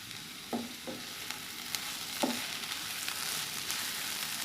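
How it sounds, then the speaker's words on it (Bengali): Bottle gourd peel frying in a pan hisses in a steady sizzle, with a few soft scraping stirs near the start and middle. "মাঝখানে আমি একটু নেড়ে দিছি, সুন্দর একটা ফ্লেভার বের হচ্ছে।"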